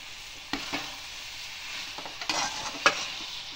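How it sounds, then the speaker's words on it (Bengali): Grated coconut filling with cardamom powder is stirred in a pan for patishapta pitha, giving a soft continuous sizzle broken by several sharp scrapes and taps of the spatula, close and unaccompanied by speech. "এবার আমি একটু এলাচ গুঁড়ো দেব। আবার একটু নাড়াচাড়া করে দেবো।"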